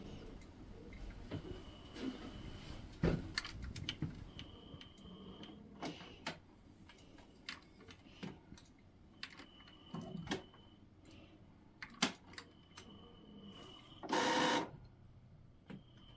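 An Epson ET-7700 inkjet printer works away quietly, with rhythmic ticks, clicks and short mechanical whirs, and one brief louder grinding burst near the end.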